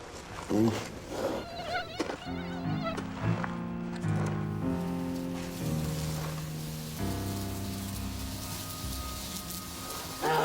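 Insects buzz around a polar bear on a hot 28-degree day, a steady thin drone that continues under other tonal sound throughout.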